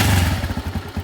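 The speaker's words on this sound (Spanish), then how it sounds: "Voy a acelerarlo un poquito y voy a prender la moto." A UM Nitro 150 motorcycle engine with a fuel-delivery fault runs close and loud, with a low, steady, pulsing throb and rhythmic mechanical clatter throughout, no talking.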